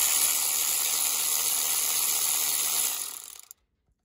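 A ratchet or mechanical tool whirs steadily up close while bolts are undone during a clutch job on a turbocharged Nissan 370Z, then cuts off abruptly near the end, leaving silence.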